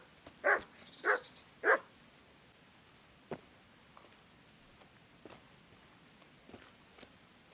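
Three sharp dog barks in the medieval role-playing game Kingdom Come: Deliverance, loud and close in quick succession, followed by quiet footsteps and faint scattered sounds.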